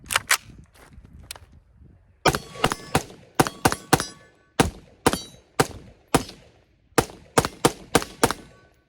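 A Palmetto State Armory 11.5-inch AR-15 pistol with several years of heavy use fires about a dozen and a half sharp, loud shots outdoors. Some come singly and others in quick clusters, each with a short echoing tail.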